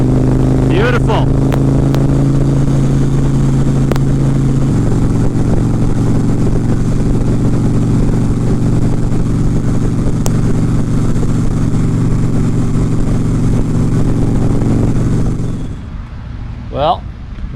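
An Indian motorcycle rumbles steadily at cruising speed on an open ride, with wind noise and a constant loud engine drone that shifts pitch once, then fades away near the end.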